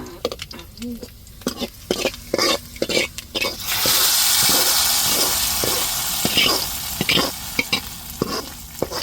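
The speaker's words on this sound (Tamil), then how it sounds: "இப்போ கருவேப்பிலை சேர்த்துக்கிடுவோம்" Curry leaves dropped into hot oil in a pan while cooking shark fish puttu, a sudden loud sizzle swelling and hissing for several seconds, with scraping stir strokes before and after.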